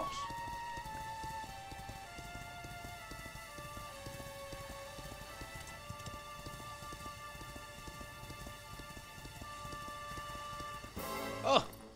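Horse hooves clip-clop at a steady pace in the Dragon Quest XI video game, fairly quiet and unbroken beneath a sustained musical backdrop, with a brief louder burst near the end.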